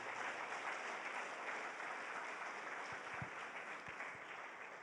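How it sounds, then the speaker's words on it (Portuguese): Steady applause from a church congregation during a worship service, a continuous dense clatter of clapping that holds at an even level throughout with no voices over it. "dá uma salva de palmas ao Senhor"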